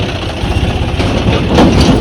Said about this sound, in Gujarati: હવે ટ્રેક્ટર આવી ગયું ટ્રેક્ટરનો અવાજ આવે